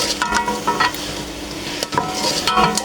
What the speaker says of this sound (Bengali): এবারে সুন্দর করে নেড়ে চেড়ে দিয়ে